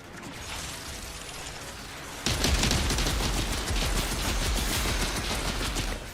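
Sniper rifle fire in the video game Outriders: a dense, loud burst of shots and mechanical clatter that steps up sharply partway through and keeps going with no talk.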